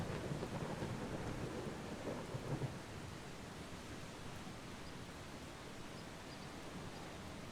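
Steady rain falls in the video game Eastshade, a soft, even hiss of dense drops that stays constant and fairly quiet throughout.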